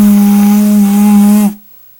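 A loud Xbox 360 console runs with a steady whirring roar and a strong droning hum, then cuts off abruptly after about a second and a half, leaving near silence.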